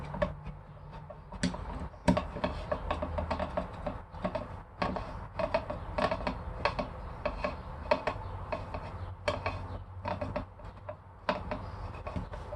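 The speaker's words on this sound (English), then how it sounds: "deep inside of there you're going to want to remove the Phillips head screw that's holding these two parts of the stock together" Small metal clicks and ticks from a screwdriver backing a long Phillips head screw out of a Mossberg shotgun stock, an irregular run of faint close taps with brief pauses between them.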